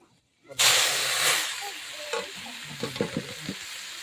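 After a second of silence, a mustard-seed tempering bursts into a loud hissing sizzle as amboli greens are tipped in, then settles into stirring scrapes and softer frying, with a voice faintly present.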